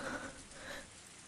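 Heavy rain in the video game Higurashi When They Cry: a faint, even hiss of falling rain, steady and soft throughout with no voices.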